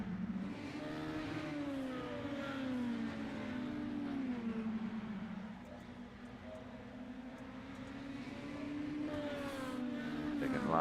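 Dirt mini stock race cars in the iRacing video game, engines droning and revving steadily through the whole stretch, with several cars close together and the pitch rising and falling as they lap.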